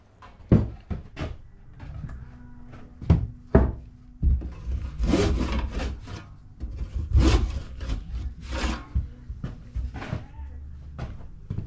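Wooden table legs being notched with a saw for a stronger joint, giving repeated short cutting strokes and knocks of wood in a workshop, fairly close and loud, with no talk over it.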